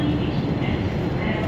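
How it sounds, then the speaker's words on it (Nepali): A train at New Jalpaiguri railway station gives a low, steady rumble close by over a brief stretch, with voices talking over it. "आमा उपरतिर ट्रेन रहेछ पुरै"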